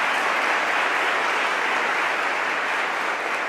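Audience at the Guadalajara 2022 Holy Week proclamation applauding after the speech, a dense, even wash of clapping from a large hall crowd, loud and steady throughout with no voices.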